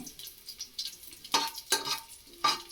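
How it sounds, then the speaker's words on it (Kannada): Garlic and curry leaves frying in a pan for a village-style cucumber sambar, quiet sizzle broken by a few sharp stirring scrapes and clinks against the pan, close up with no talk. "ಈಗ ಕೆಂಪಾಗೋವರೆಗೂ ಸ್ವಲ್ಪ ಹುರಿತಾಯಿದ್ದೀನಿ ಇದಕ್ಕೆ ಕರಿಬೇವೆಳೆ ಹಾಕ್ತಾಯಿದ್ದೀನಿ"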